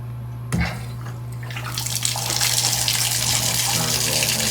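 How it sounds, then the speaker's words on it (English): A hotel shower at a Hilton Garden Inn in Gainesville, Georgia, is switched on with a clunk of the handle, then water sprays hard and steadily close by. "And it's a pretty good shower spray."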